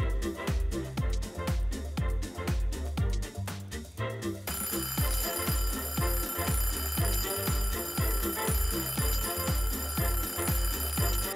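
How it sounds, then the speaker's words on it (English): An alarm clock rings in the video game DayZ, a rapid metallic bell clatter pulsing in fast regular bursts, loud and close, with a steady electronic tone joining partway through. "you can use the alarm clock or the food timer to distract them"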